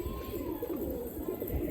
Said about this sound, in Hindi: ये देखो भाई कबूतर चेक करो